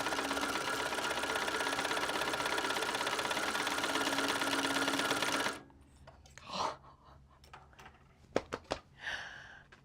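A sewing machine stitches fabric for a belt bag, running loud and steady for several seconds before it stops, followed by a few scattered handling clunks and rustles.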